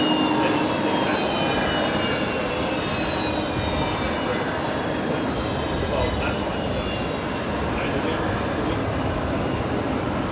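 An Airbus A380 at Brisbane Airport, a loud, steady broadband jet roar filling the whole stretch with whining engine tones drifting slowly downward, continuous and close throughout.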